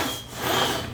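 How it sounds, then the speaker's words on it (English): A high-pitched rubbing from the cam tensioning spring scraping the side rail on a budget DIY CNC plasma table gantry, a steady close scraping rasp across the whole moment. "That high-pitched noise, that's the spring that tensions the cams. That's rubbing on the side rail."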